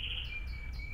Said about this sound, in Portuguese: tem um passarinho cantando pra cacete aqui, não para